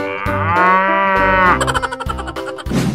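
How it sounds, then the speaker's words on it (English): A cow moos in one long, loud, drawn-out call that dips and wavers toward the end, heard close and alone with no talking. "cow"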